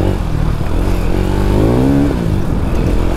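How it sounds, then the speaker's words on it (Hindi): Motorcycle engine revving and accelerating on a dusty, slippery dirt trail, a loud close rumble that rises in pitch midway before settling, with clattering over the steady drone and no talk. "अब आगे जाके थोड़ी बाइक दबाएंगे, बाइक खींचते हैं।"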